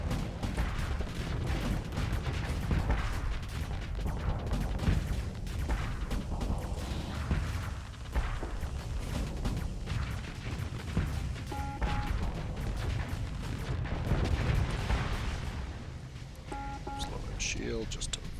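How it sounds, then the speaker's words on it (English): Weapons fire from a space battle video game, with rapid shots and crashing impacts sounding steadily throughout, dense and continuous, mixed under game effects and someone talking over it. "I'm getting shot at by a dozen different things and just don't care."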